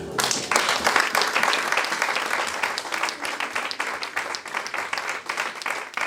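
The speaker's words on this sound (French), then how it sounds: "Est-ce qu'on peut acclamer le Seigneur?" A church congregation applauding and cheering for the Lord, a dense sustained round of clapping that stays loud throughout and eases slightly toward the end.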